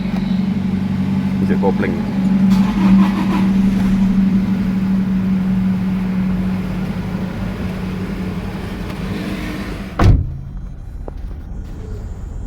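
A Toyota Innova Reborn diesel engine runs close by with a steady low clatter and hum, a person speaks briefly over it, and a sharp knock sounds near the end.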